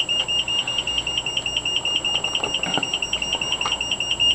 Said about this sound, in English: The first thing you will notice is the warning buzzer, alerting you that the emergency call is being placed.